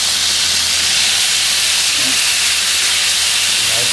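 A New York strip steak sears in a very hot pan, giving a loud, steady broadband sizzle and hiss that runs unbroken from start to finish, with no voices.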